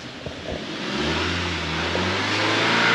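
An Audi A3 engine revs up in repeated surges during hydrogen engine cleaning at a service station, its low drone rising in pitch and loudness, with a few faint clicks near the start.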